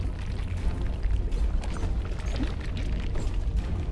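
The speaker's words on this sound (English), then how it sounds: "that is a lava waterfall that I ran into" Lava waterfall in the video game DUST: An Elysian Tail, a dense continuous low roar and rush that stays steady and fairly loud throughout with no voices.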